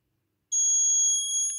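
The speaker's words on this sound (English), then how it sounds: "Invalid tag, red LED, alarm on." A shrill, steady electronic alarm tone from a Raspberry Pi Pico library system rejecting an invalid tag starts abruptly after a brief silence and holds, close and loud.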